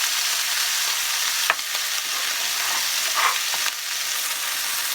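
Sliced leeks hit hot olive oil in a pan and sizzle steadily and closely, with a couple of soft stirring knocks under the continuous frying hiss.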